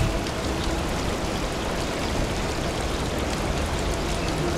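Steady rushing waterfall from the video game Eastward, a continuous dense wash of falling water that stays loud and even throughout with no voices.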